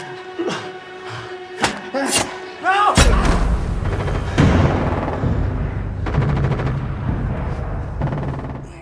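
Gunfire in an action film shootout between robbers and security guards, sharp cracks and booming shots followed by a dense, rumbling stretch of rapid firing and impacts, heard under a narrating voice.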